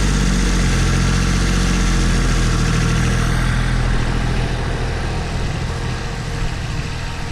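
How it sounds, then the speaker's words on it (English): A farm tractor engine idling to cool down, a steady, close, continuous diesel rumble with no change in pace and no voices. "The tractor idle for just a little bit to cool down some."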